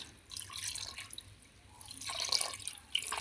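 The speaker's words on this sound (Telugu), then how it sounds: "ఇప్పుడు ఈ వెన్నని మనం కూలింగ్ వాటర్ పోసుకొని కడుక్కుందాం" Cold water poured over freshly churned butter to wash it, a close splashing and trickling into a vessel that swells in two bursts with small drips between.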